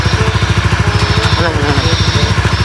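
A motorcycle engine idles close by with a fast, even throbbing pulse that holds steady throughout, while people talk over it.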